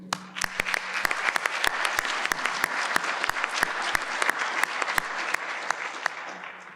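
Steady audience applause fills the hall at a university winter graduation convocation, a dense wash of many hands clapping with a few louder individual claps standing out, sustained evenly for several seconds.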